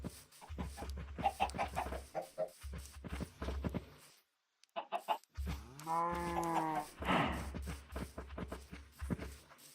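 Cows in a Minecraft game moo in drawn-out calls alongside clucking chickens, several animal sounds overlapping near and loud with short pauses between.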